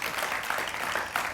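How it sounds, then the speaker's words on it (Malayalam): Applause from a studio audience at a televised Malayalam chat show, a steady, dense patter of many hands clapping throughout, moderately loud and with no talking over it. "ഒന്ന് കൈയടിച്ച് പാസ്സായി കൊടുക്കുക"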